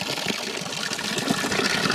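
Cold water pouring steadily from a natural mountain spring spout in a Himalayan hill village, a continuous close, loud gushing splash with no pauses.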